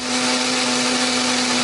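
A kitchen blender grinds shallots, garlic, ginger and turmeric with added water or oil into a paste, a loud, steady motor whine with constant high-pitched hum, running unbroken throughout with nothing else audible.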